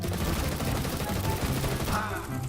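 Rapid gunfire in the video game CS:GO, dense continuous bursts of shots, loud and close, with a muffled voice underneath.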